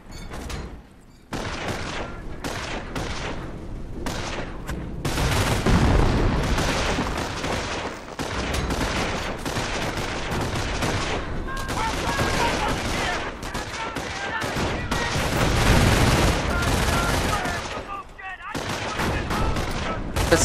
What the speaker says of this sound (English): This is a mortar.